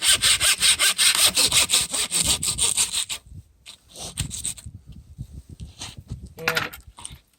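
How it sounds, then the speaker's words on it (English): Hand saw cutting through a deer's pelvis in the field, rapid rhythmic back-and-forth rasping strokes, close and loud, then slower, scattered scraping and rustling as the sawing eases off. "we currently have a saw, so we're gonna do it this way. So just cut into the pelvis."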